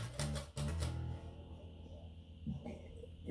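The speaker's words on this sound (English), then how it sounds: "the bass sounds like this" A Ken Smith BSR5J bass guitar with Bartolini pickups, pickup switch set all the way back, plays a few close, deep plucked notes that ring and slowly fade, with another soft note later.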